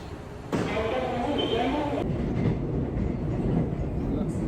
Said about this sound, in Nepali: फाइनली हाम्रो ट्रेन आयो।